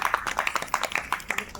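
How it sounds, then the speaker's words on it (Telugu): A church congregation claps loudly in a prayer hall, sounding as a quick burst of sharp, irregular claps from several people close together, with a voice mixed in. "ఒకసారి గట్టిగా చప్పట్లు కొట్టండి."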